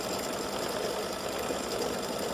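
An embroidery machine stitches out the dress of a St. Patrick's Day gnome girl design, giving a steady, fast mechanical whirring and chatter with a constant rhythm, close and continuous with no talking.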